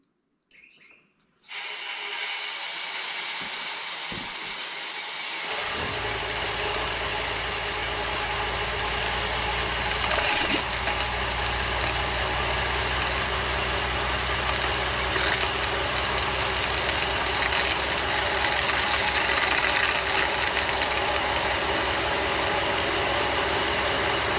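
A micro hydro generator spins at about 1,000 RPM, starting after a quiet moment into a loud, steady whirring drone with rushing water hiss that holds unbroken to the end.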